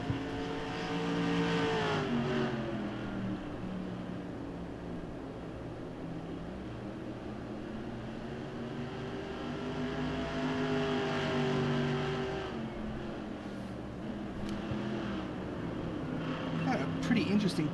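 Race car engines whine and surge as cars drive around the corners in a FARCA race at Irwindale, the Tom Dales Irwindale 150, with rising and falling pitch sweeps heard at moderate distance beneath ongoing commentary.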